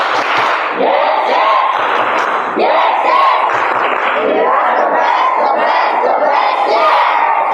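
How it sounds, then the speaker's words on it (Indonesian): Seminar audience performing the Tepuk Aladin clapping chant, loud rhythmic group chanting punctuated by clapped beats in repeating phrases, with voices rising and falling together throughout. "coba sekali lagi tepuk Aladin"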